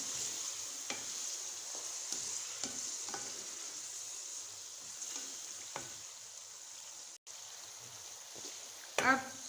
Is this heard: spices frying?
yes